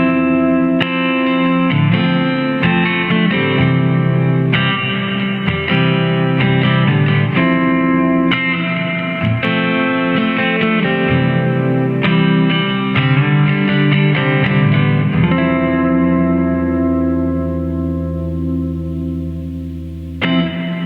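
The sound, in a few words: guitar through MXR M300 reverb pedal, plate reverb mode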